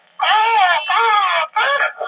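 A voice mimics a crow with three drawn-out, nasal caw-like calls in quick succession, close and loud.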